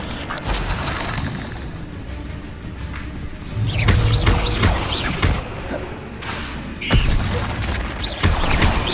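In the Hogwarts Legacy video game, Incendio fire spells are cast repeatedly, producing whooshing bursts and crackling impacts over dense game noise, with thuds and shattering clashes from combat throughout.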